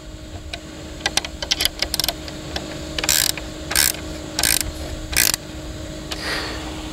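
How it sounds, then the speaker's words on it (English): A 7/16 inch wrench tightens a bolt during assembly of a Berlin Gardens Adirondack chair, with quick clicking ratchet-like rattles followed by several louder, sustained scraping turns, close and without speech. "Now, using your 7/16 inch wrench, tighten securely."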